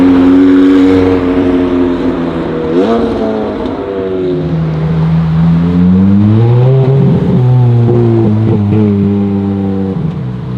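A Bugatti Veyron supercar revs on a Zurich street: a loud, close, continuous engine roar whose pitch climbs and falls through several throttle blips, with no talking.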